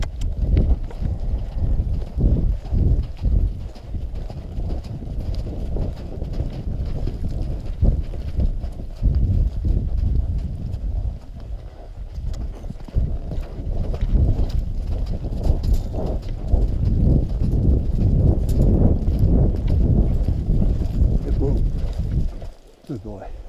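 Horse hooves clip-clopping at a canter over processed gravel, a steady rhythmic beat close by with wind noise across the microphone, while a person talks over it.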